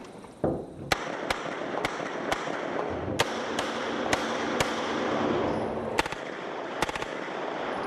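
MP5 submachine gun firing at close quarters: a string of about a dozen sharp, loud shots in an uneven rhythm, some in quick pairs, over a steady background roar.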